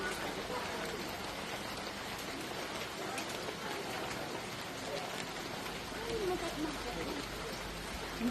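Rain falls near a stone church in Batangas, Philippines, making a dense, steady hiss that continues without pause for the whole stretch.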